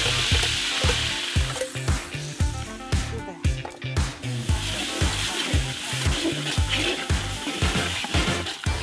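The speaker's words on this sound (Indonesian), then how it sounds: "Pertama, panaskan minyak. Lalu tumis bumbu yang sudah dibikin sama si teteh." Spice paste sautéing in hot oil for a bamboo shoot dish, a continuous crackling sizzle under rhythmic scraping stir strokes repeating roughly every half second, close and steady throughout.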